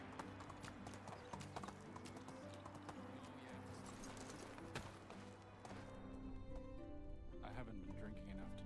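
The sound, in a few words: horse trotting, clip-clop hooves, video game Medieval Dynasty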